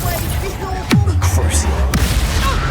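Two booming spell blasts from the Confringo fire charm in the Hogwarts Legacy game, each a sudden loud thump with a rumbling tail, over continuous game sound and a player's voice.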